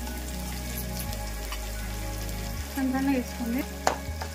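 Onions sizzling and frying in oil in a pan for masala idly, a steady crackle with stirring, a voice speaking briefly over the cooking.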